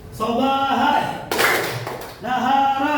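Students in a classroom word game clap in a burst of quick hand claps in the middle, set between stretches of a voice speaking; the claps are moderately loud and close.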